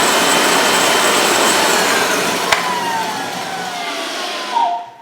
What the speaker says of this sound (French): la turbine est en train de tourner au-dessus de l'eau et va aspirer ici